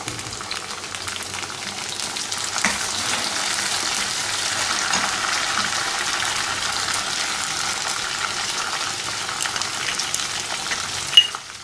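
Tomatoes go into onions frying in oil for Pakistani chicken biryani, giving a loud steady sizzle with stirring scrapes throughout and a sharp utensil clink near the end, close and without talk.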